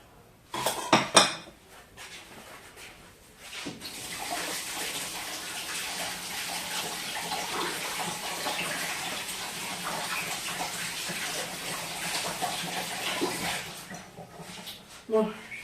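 Kitchen tap running steadily for about ten seconds as hands are washed after making a Christmas log cake, preceded by a few clinks of utensils, close and fairly loud.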